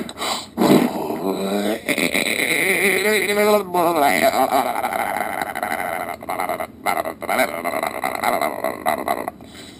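A human voice imitates a Bigfoot call: a loud, wavering, drawn-out howl with rising and falling pitch, followed by rougher guttural cries.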